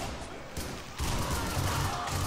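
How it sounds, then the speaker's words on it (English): Machine gun fire in a video game, a dense rattling burst that thickens and grows louder after the first second, with other game sounds mixed in. "I've got a machine gun."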